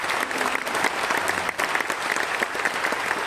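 An audience at a church gathering breaks into dense, sustained applause, close and loud, with hands clapping continuously and no pause for the full few seconds.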